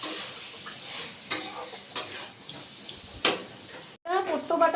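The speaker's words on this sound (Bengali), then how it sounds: "পোস্ত বাটা দিয়ে আমি এখন ভাজা হয়ে গেছে" Poppy seed paste frying in a pan for a ridge gourd and potato dish gives a low continuous sizzle with several sharp scraping clicks of a spatula, close by; a voice starts talking at the end.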